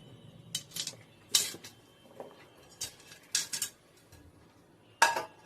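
Cut mutton pieces with papaya being tipped into a handi pot, giving several separate clattering, clinking bursts of metal and pieces hitting the pot, spaced irregularly with quiet gaps between them.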